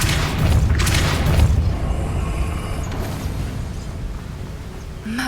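A Depulso spell blast in the video game Hogwarts Legacy lands as a loud, deep boom that rolls on and slowly fades over several seconds, ending with a faint higher tone.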